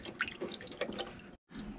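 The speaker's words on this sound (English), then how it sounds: "a little bit more water came in than I was expecting" Water dripping and trickling into a boat hull as the log speed paddle wheel is pulled out, a quiet irregular run of small splashes and drips that stops abruptly, then resumes faintly.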